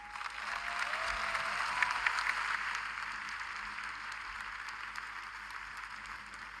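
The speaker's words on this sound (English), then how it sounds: "A round of applause again." Applause from an audience at a university convocation after an address, a soft, distant wash of many hands clapping that swells early and then tapers gradually.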